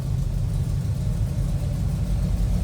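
A 1956 Willys Jeep engine idles with a steady, deep, throaty rumble, loud and close, with no voices over it.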